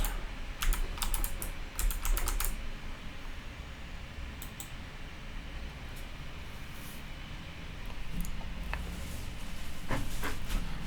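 Fingers type steadily on a computer keyboard while entering credit card details, with bursts of quick clicking keystrokes at the start and end over a faint background hum.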